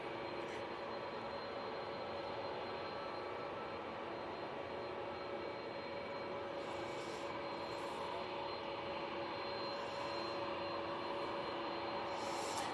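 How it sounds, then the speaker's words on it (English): An Aer Lingus A330 airliner passing overhead at Manchester Airport, a soft, distant, continuous jet rumble with a faint steady whine and a few brief higher rustles. "And here's the Aer Lingus A330."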